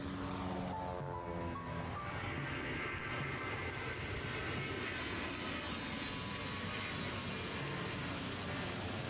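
Steady, continuous drone of airplane engines in the Airport CEO airport-management video game, a broad roar holding at even loudness for the whole stretch with no talk over it.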